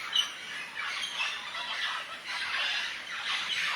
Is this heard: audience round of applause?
no